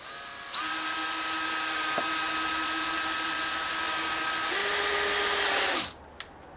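A power driver runs a square drive screw into a play structure's pull-up bar mount, a steady high whine that holds for about five seconds, shifts pitch near the end, then spins down.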